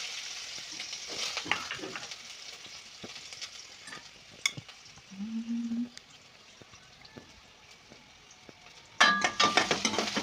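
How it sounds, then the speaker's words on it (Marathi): Cumin, mustard seeds, asafoetida and onion fry quietly in a pan, a soft sizzle broken by a few scraping stirs and a louder clatter of stirring near the end. "जिरं मोहरी टाकले त्यानंतर हिंग कांदा"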